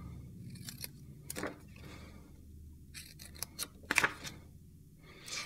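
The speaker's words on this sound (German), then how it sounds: "nehmen wir uns einfach die Papierschere, schneiden das ein bisschen schräg raus." Paper scissors snip off the corners of a sheet at a slant while an envelope is made, giving a few crisp, close cutting crunches with quiet pauses between them.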